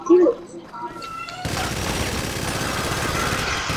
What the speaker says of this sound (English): Why you shooting at me